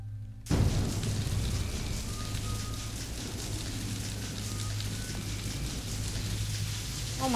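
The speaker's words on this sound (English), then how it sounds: "look at this rain" Heavy rain starts with a sudden loud burst and then roars on as a dense, continuous downpour close by, its thick broadband wash filling the scene without letting up.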